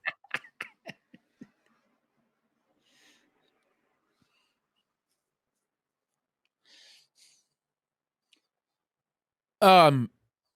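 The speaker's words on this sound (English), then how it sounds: "let me blow my nose" A short burst of nose blowing, loud and close, comes near the end after a brief bit of talk at the start and a long quiet stretch.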